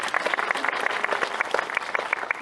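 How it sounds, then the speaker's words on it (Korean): Audience at a film screening Q&A for the movie with actor Song Joong-ki claps for him, a dense, even round of applause filling the room throughout. "송중기 배우님께 박수를 한번 드리도록 하겠습니다"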